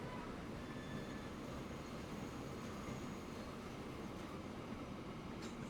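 Trains running in the simulation game Transport Fever 2 give a steady, dense rumble of rail cars rolling on track, with faint wheel squeal and a brief high screech near the end, continuous and fairly quiet.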